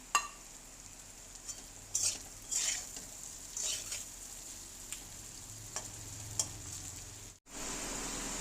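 Two hilsa fish heads drop into a pan of browned taro and potato and fry with a steady low sizzle, while a spoon stirs them in several scraping bursts and a few light clinks against the pan.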